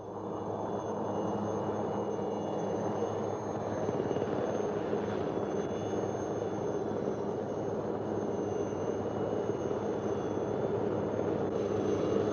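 A helicopter flies out over the jungle to resupply a British and Commonwealth patrol during the Indonesia Confrontation, a steady, continuous engine and rotor drone heard alone at moderate level for the whole stretch.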